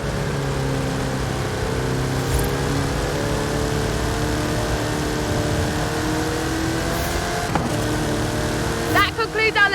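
A car in Forza Horizon 5 drives around a Hot Wheels loop, its engine a steady droning hum with slowly shifting pitch, ending in a brief burst of sharper engine and effect sounds.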